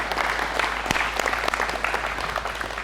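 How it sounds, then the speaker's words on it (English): Audience at a basketball coaching clinic claps for the presenter, a brief, moderately loud burst of many hands with a few sharper individual claps standing out. "Let's give a round of applause for Chris."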